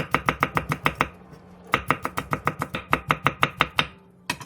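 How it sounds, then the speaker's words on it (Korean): A knife chops green onion and Korean cheongyang chili peppers on a cutting board in quick, close, even taps, with two bursts of strokes separated by a short pause and a single final chop. "손가락 길이 정도의 대파 1조각과 청양고추 2개, 홍고추 반 개를 길게 반으로 가른 뒤 쫑쫑 썰어주세요"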